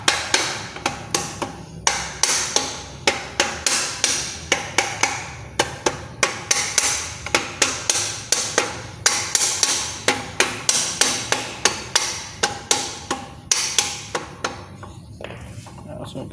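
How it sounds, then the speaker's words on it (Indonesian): A rubber mallet repeatedly striking differential components on a Toyota Kijang, a steady series of sharp, fairly loud knocks over a workshop background with brief pauses between bursts. "kita gunakan palu karet ya, agar tidak merusak komponennya"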